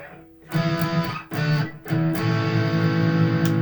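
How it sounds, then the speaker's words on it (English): Epiphone Les Paul Traditional Pro IV on the bridge pickup, unsplit, with heavy distortion: chords ring out in three bursts, each sustained with a thick, gritty tone. "So the bridge pickup, not split."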